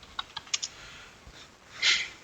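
Keys tapped on a computer keyboard while entering Linux commands: a few soft, separate keystrokes, then a brief burst of clicks, quiet and close with no voice.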